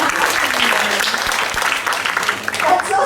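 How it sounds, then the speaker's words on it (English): Parents clapping at a class orientation: a loud, close burst of applause from a group in a room, steady throughout, with voices talking over it. "you can clap louder"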